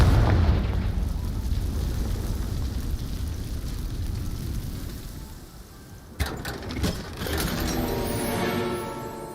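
A Confringo blasting spell goes off in Hogwarts Legacy as a loud, rumbling explosion that decays into a long roar, followed by a sharp crack and several smaller bursts near the end.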